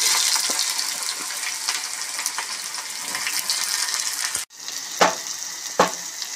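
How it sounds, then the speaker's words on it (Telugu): Chopped onions frying in a pan with cardamom and cloves, a loud continuous sizzle broken by a sharp drop and then a few stirring clanks. "తర్వాత చిన్నగా కట్ చేసుకున్న ఉల్లిపాయలు వేసుకోవాలి."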